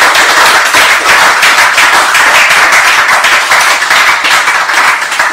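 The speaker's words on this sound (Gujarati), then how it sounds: "તો એક વખત જોરદાર તાળીઓ." A live audience at a Women's Day special stage event breaks into loud, sustained applause, dense clapping that fills the whole stretch without letting up and with no voices over it.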